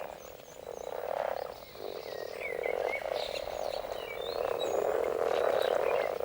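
Many common frogs croak together in a dense, continuous chorus, steady and fairly close, with no voices.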